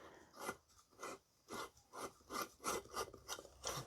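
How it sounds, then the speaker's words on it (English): Rhythmic scraping and rasping bursts as a light bulb is twisted and screwed into the fitting of a small 40 x 40 cm LED photography softbox, about eight short strokes, close and fairly quiet, with no talking. "I'm not having much luck screwing this in though."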